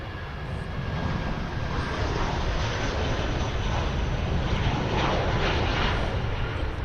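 Airliner taking off at full thrust at Manchester Airport, a steady, loud broadband jet roar that holds constant throughout with no break.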